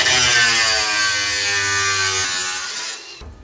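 A saw cuts through galvanized sheet metal for work on an Alpine A110, a steady loud buzzing whine holding for about three seconds before cutting off abruptly.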